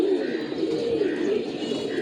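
Pigeons coo close by on a rainy day in a steady sequence of soft, rolling calls that overlap continuously, with a faint hiss of background noise.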